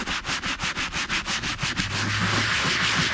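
A brush scrubs a boat's vinyl seat in fast, rhythmic back-and-forth strokes, close and loud, then shifts into a continuous, steadier scrubbing rasp toward the end.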